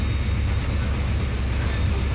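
Locomotive engine in the Trainz 2022 railroad simulator, a loud, steady low rumble with continuous mechanical drone and no voices.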